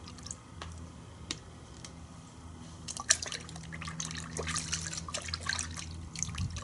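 Car wash shampoo of thin viscosity poured from a shot glass into a wash bucket, giving faint liquid trickles and small drips at close range in a quiet setting.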